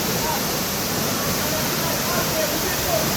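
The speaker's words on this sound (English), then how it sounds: "Here we are at the Syndicate Waterfall." At the Syndicate Waterfall, falling water makes a constant, dense rushing roar close by that stays loud and even throughout, with no break.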